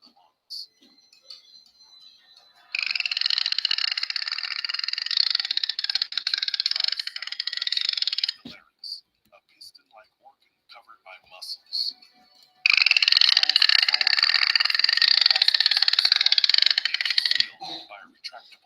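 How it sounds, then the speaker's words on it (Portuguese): Two long bursts of rapid, high-pitched toothed-whale echolocation clicks, each lasting several seconds, separated by a quieter gap with scattered faint clicks. "esses são os cliques, são sons de alta frequência, né? São esses sons que os odontocetos produzem"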